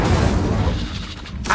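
An Incendio fire spell cast in Hogwarts Legacy, a dense booming burst of flame that roars loudly and fades, with a fresh crackling flare starting at the end.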